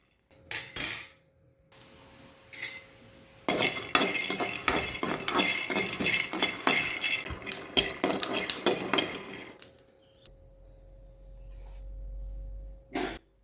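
Half a cup of peanuts roasting in a pan over low flame, rapid rattling and scraping bursts as they are tossed and stirred, close and busy for several seconds, with a few isolated clinks before and after.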